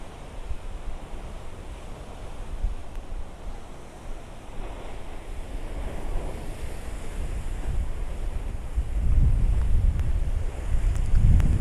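Ocean waves surge along the coast at Dalkhout near Salalah, Oman, under steady wind buffeting the microphone, with heavier crashing surf building toward the end.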